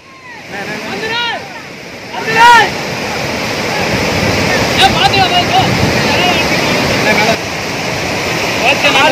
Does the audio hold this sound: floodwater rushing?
yes